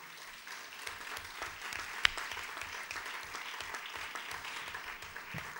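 Moderate applause from a conference audience thanking the organisers, a continuous patter of clapping at medium distance with one sharp louder clap standing out, over a low steady room rumble.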